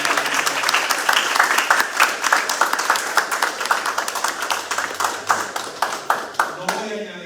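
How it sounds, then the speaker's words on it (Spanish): A church congregation breaks into applause during a sermon, many hands clapping in a steady, fairly rhythmic patter that carries on for several seconds before fading at the end. "Dale un aplauso al Rey de Reyes."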